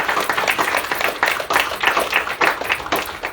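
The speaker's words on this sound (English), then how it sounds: "How about a round of applause?" Applause from a small audience at a poetry reading, with a steady run of claps over a few seconds, fairly close and moderately loud.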